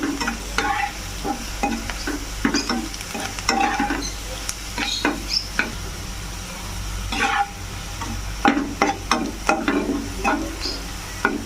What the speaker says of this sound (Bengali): রসুনটাকেও ভালো করে পেঁয়াজের সঙ্গে ভেজে নেব।